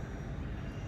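A VOLANTEXRC F4U Corsair remote control park flyer airplane buzzes steadily overhead above a large field, its small electric motor producing a continuous droning whine with no talk.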